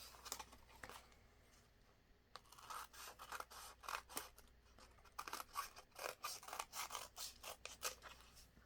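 Scissors trim around a bird image on paper for themed journal cards, a quiet close-up run of rhythmic snipping and rasping cuts that come in fast, even strokes after a brief pause.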